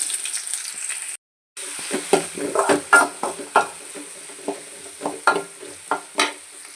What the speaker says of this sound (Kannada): ಎಣ್ಣೆ ಕಾಯೋದಕ್ಕೆ ಇಟ್ಕೊಂಡು ಅದಕ್ಕೆ ಸ್ವಲ್ಪ ಸಾಸಿವೆ ಬೆಳ್ಳುಳ್ಳಿ